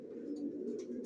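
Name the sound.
racer pigeons cooing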